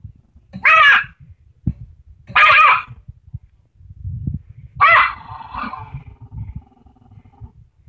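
A rat terrier barks in three loud, harsh bursts spaced a couple of seconds apart, with a low, rumbling growl running between them close to the listener.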